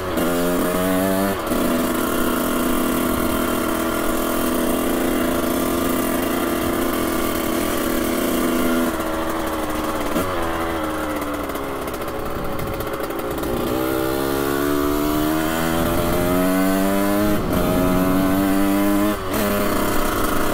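A Honda CR 125 two-stroke motorcycle rides along a street, its engine buzzing steadily and loudly with repeated rising and falling revs through gear changes, close and continuous throughout.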